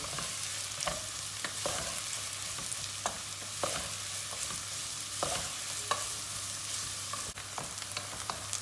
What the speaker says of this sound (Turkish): Soğanla beraber havucumuzu da kavuracağız.